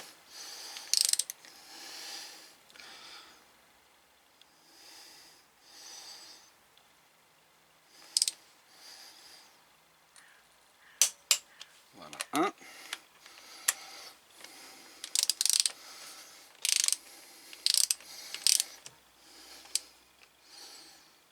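A torque wrench tightens valve cover screws on a BMW R1200RT motorcycle, giving sharp close ratcheting clicks in short bursts, with quieter stretches of handling noise between them.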